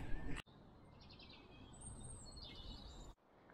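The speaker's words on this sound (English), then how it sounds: "The birds are in full song this morning." Birdsong in a spring oak woodland on a fresh morning: several high chirps and warbling calls, moderately distant, over steady low outdoor rumble, with no talk.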